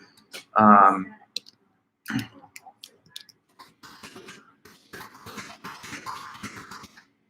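A message is typed into a chat on a computer during an online philosophy class, making scattered light clicks. A loud cough-like burst comes near the start, and a voice speaks afterward.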